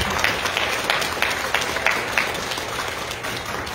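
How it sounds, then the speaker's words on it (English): An audience claps together for an elderly man named Marvin, a dense run of hand claps with a regular rhythm that holds steady, then eases off slightly toward the end. "That deserves a clap, Marvin."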